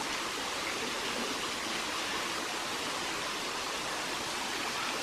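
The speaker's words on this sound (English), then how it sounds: "This is the falls before you get to Turkeyfoot Creek." Springtime falls flowing just before Turkeyfoot Creek in the Sipsey Wilderness of Bankhead National Forest, Alabama, a steady, dense broadband rush of falling water that stays constant and close throughout, with no voices.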